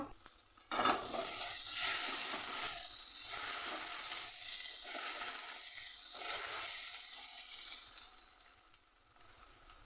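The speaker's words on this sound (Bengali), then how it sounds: "এবার সব একসাথে মিশিয়ে দেবো, দিয়ে নাড়াবো" Egg and potato masala with chopped tomato stirred in a pan, a soft continuous sizzle broken by repeated scraping strokes of a spoon at a steady rhythm, no voices.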